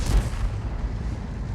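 A heavy, low artillery boom from a shell landing near tanks in a tank battle video game, fired from a GW E 100 self-propelled gun, one deep rumbling impact that rolls on briefly, loud and fairly close.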